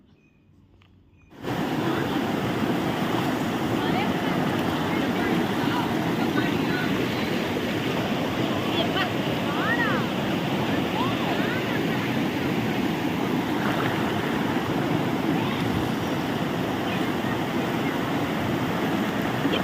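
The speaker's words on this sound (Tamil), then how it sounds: "கிட்டத்தட்ட அந்த அருவி கிட்டே வந்துட்டோம்னு நினைக்கிறேன் அருவியை பார்த்தாச்சு" A waterfall at the foot of Kolli Hills, amid green forest, roars as a steady broadband rush. It starts after a brief quiet moment and stays loud and unbroken to the end.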